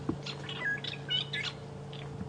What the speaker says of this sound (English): And there's an oxpecker cleaning in its ear. Oh, you'll see the bird. It's a young oxpecker.